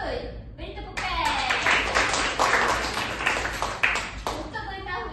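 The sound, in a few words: classroom applause for students' answers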